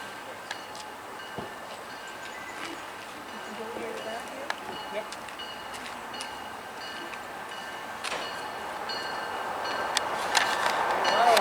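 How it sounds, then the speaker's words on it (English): A train rumbles and clanks as it approaches a station in the Adirondacks, growing gradually louder, with faint metallic squeals and a few sharp knocks from the rails. "We'll catch them coming into the station."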